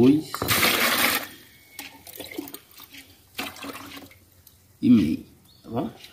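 Water poured into a floor paint mixture during an old-floor renovation: a splashing pour at the start, then quieter dribbles as a person talks nearby.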